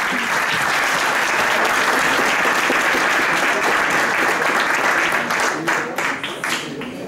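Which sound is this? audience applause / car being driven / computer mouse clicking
audience applause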